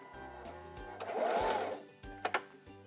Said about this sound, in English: I'm going to release the lever and then continue sewing my straight stitch.